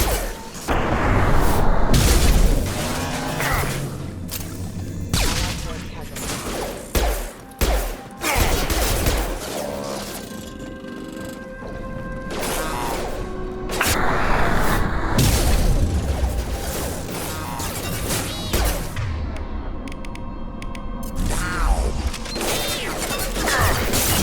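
Gunfire in the video game Mass Effect 2 Legendary Edition: bursts of shots, crashes and booms come in dense waves with mechanical clanks, loud and close, with no talk over them.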